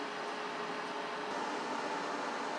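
A steady, even mechanical hum with a whirring fan-like hiss runs continuously at moderate level as an air fryer cooks fish fillets at 400 degrees, with no talking.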